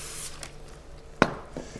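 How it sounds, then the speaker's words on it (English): Cooking spray is spritzed onto paper, a single short sharp hiss standing out above quiet rustling and faint background noise. "We're going to give a little spray to our paper"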